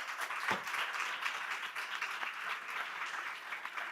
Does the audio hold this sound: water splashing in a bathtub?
no